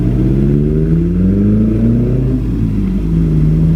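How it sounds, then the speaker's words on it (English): A car engine revs steadily with a deep, throaty exhaust rumble, pitch rising and falling slightly, loud and close throughout. "My exhaust sounds better."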